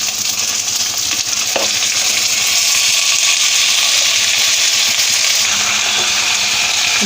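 Snake gourd pieces fry in a pan for a Telugu potlakaya milk curry, giving a steady, loud, continuous sizzle with occasional stirring scrapes, no voices.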